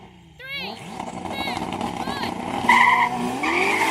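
A 3000-horsepower Nissan Patrol with a manual gearbox launches in a drag race against a Ferrari SF90, tires squealing and the engine rising sharply over several seconds while people talk nearby.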